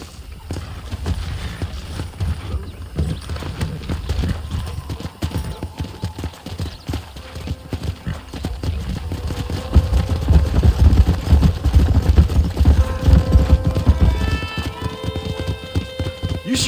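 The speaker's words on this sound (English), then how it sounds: "That ranch hand said there's a pack of wild horses nearby." A pack of wild horses gallop in the video game Red Dead Redemption, with rapid clip-clop hoofbeats drumming continuously and growing heavier toward the end, over game ambience.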